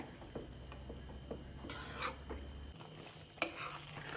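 Eggplant curry cooking in a pan on the stove, with soft bubbling, sizzling and occasional scraping of a spoon against the pan, heard up close with no talking.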